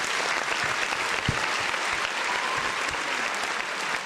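Studio audience at a basketball talk show keeps up a full, steady round of applause, thick overlapping claps at close range with occasional louder single claps popping through.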